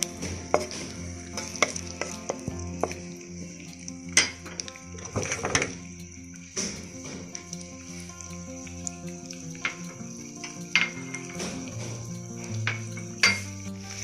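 Fresh corn kernels stripped from a whole cob roast and fry in a pan with a low sizzle, punctuated by frequent sharp clinks and scrapes of a metal utensil against the pan as they are stirred.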